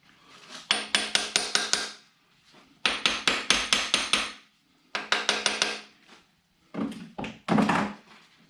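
A small hammer taps in quick bursts of about six to eight sharp metallic strikes, separated by short pauses, close and clear during tear-down of a 455 Buick engine short block.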